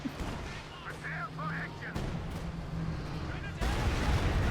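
An ISU self-propelled gun fires in Company of Heroes 2, heavy booming shots rolling out amid battle noise, with a commentator speaking over the action throughout.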